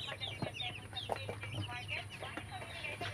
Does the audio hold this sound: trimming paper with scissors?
no